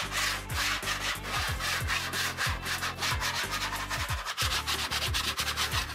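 Knife scraping fresh stucco plaster on a wall, a continuous gritty rasp with repeated short strokes and a faint singing tone, close and steady with no talk.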